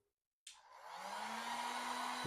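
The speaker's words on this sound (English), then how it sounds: "Get the blow dryer going" A blow dryer switches on and runs steadily, drying the bond of a hair system; a loud, even whoosh of air with a low motor hum, alone and close.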